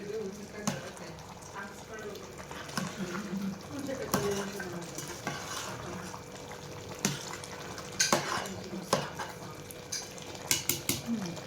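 Chicken biryani being stirred and mixed in a steel pot, with scattered scraping and clinking of a utensil against metal, fairly close and moderate in level, over a steady low kitchen hum.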